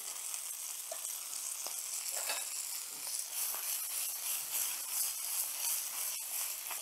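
Quail breast fries in butter in a pan with a steady, fairly quiet sizzle and crackle throughout, with a few brief clicks and no speech.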